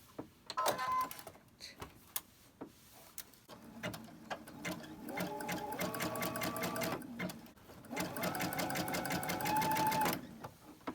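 A sewing machine stitches the sides of a small fabric sachet bag for a drawer, running in two steady whirring bursts with short pauses between, close and fairly loud, with scattered handling clicks before the stitching starts.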